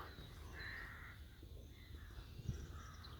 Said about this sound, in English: you can hear the birds crying here